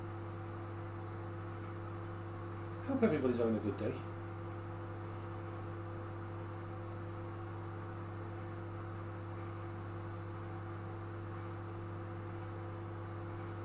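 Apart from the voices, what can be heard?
microwave oven running in the background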